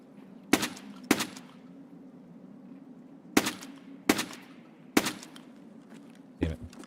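Video game shotgun blasts: six sharp, loud reports spaced irregularly across several seconds, with a steady hum underneath between shots.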